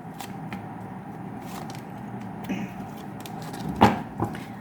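Tarot cards are shuffled and drawn close by, producing soft riffling and sliding with a few crisp snaps and taps over a quiet room background.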